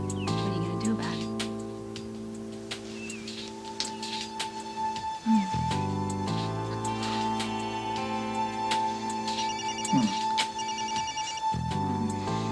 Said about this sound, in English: Don't answer the phone. I hate the phone.